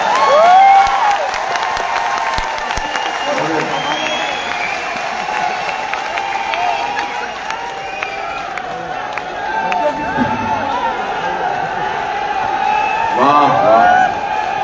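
Audience applause and cheering at a large indoor celebration event, a steady wash of clapping with scattered shouts that swells louder near the start and end, continuous throughout.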